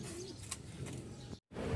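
Pigeons coo in a low, steady murmur near at hand, briefly cut off by a short gap of silence before the cooing swells again louder at the end.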